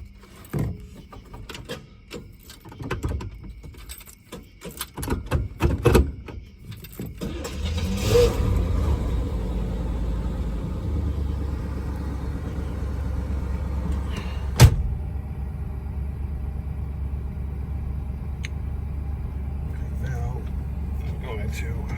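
A 1964 Cadillac Eldorado's engine being started from cold: key clicks and cabin handling first, then a sharp crank and catch around seven seconds settling into a steady, loud low idle with a brief blip midway.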